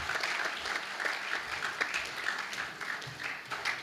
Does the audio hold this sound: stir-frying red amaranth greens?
no